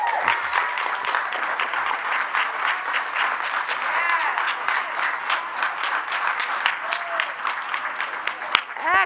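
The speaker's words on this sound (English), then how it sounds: "Let's give all of our poets a round of applause" An audience applauds the Camden City School District poets at an advisory board meeting, with steady, dense clapping sustained throughout and a few faint cheers rising over it.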